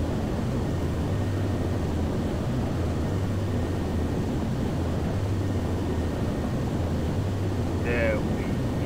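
Airplane flying in Saints Row: The Third, a steady broadband drone with a low throbbing engine hum held throughout, loud and continuous, with a brief higher tone near the end.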